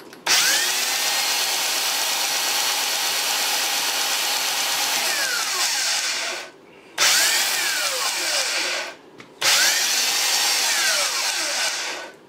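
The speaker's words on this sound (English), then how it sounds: "when I spin that half-inch Milwaukee on that flywheel, something does not feel right to me" A half-inch Milwaukee drill spins the flywheel of a Yamaha 2-stroke 15 hp outboard motor, giving a loud, sustained whirring drone in three long runs separated by brief pauses.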